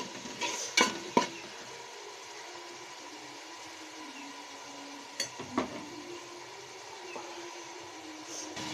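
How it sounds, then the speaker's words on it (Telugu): Green chillies with ginger, garlic and cumin fry in a pan with a steady low sizzle, broken by a few sharp spoon clanks and scrapes of stirring near the start and again midway. "బాగా వేయించుకోవాలి ఫ్రెండ్స్"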